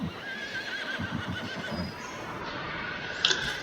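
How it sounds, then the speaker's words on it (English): A horse on a farm whinnies under a dense, steady background of game audio, with a brief higher squeal near the end. "we do have 4 horses"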